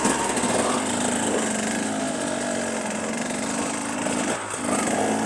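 A motorcycle engine runs steadily nearby, a continuous buzzing drone with a brief dip near the end and no talking.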